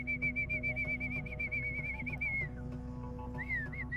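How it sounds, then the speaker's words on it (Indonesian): Clear, steady human whistling to call the wind while flying a kite, holding a high tone with slight wavers, then a couple of short rising and falling whistled notes, over a low background hum. "Caranya bersiul."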